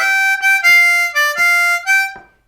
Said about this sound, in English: It's going to use that 6 blow glissando.